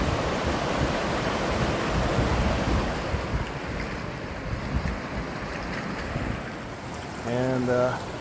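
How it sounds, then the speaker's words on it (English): A waterfall pours down a hillside beside the Carbon River, giving a steady, loud broadband rush of falling water mixed with wind buffeting, with a short tonal sound near the end. "And a beautiful waterfall over there."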